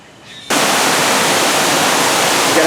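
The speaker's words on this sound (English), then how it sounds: "you're behind the waterfall. Very loud." A waterfall at Zoo Miami, heard from behind the falling water, comes in abruptly after a quiet moment and roars as a loud, dense, unbroken wash of noise.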